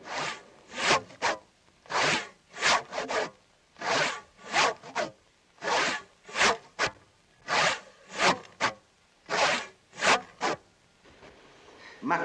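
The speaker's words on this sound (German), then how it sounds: "Der Sägemann sägt." A hand saw cuts through wood in about fourteen regular back-and-forth strokes, each a close rasping burst separated by short pauses, with no speech.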